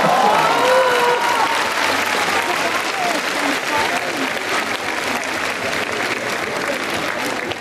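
Dense, steady applause from a festival audience at a prize announcement, loud and sustained throughout, with a faint voice or whistle briefly above it near the start.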